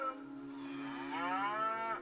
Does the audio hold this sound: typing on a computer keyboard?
no